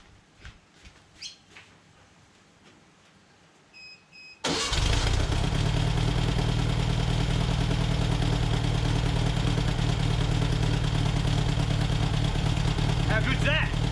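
A repaired VW Baja engine cranks and fires into a loud steady idle after a few quiet seconds of birdsong and light background noise, running on evenly until the end.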